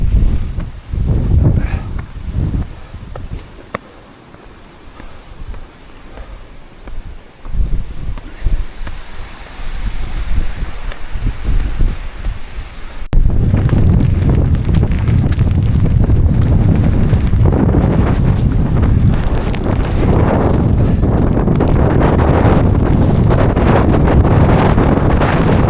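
Wind gusts across an open hillside and buffets the microphone, rumbling in uneven bursts at first, then becoming a loud, constant roar for the second half.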